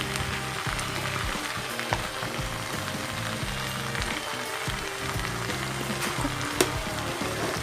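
Kwetiau noodles with spring onion and soy sauce stir-fry in a pan for breakfast, giving a continuous close sizzle broken by scraping stirs and occasional clinks of a utensil.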